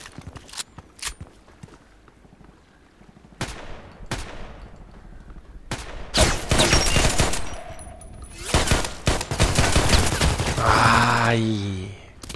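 Gunfire in the video game Contract Wars: scattered single shots at first, then denser, louder bursts of firing from about six seconds on, mixed with other game sounds.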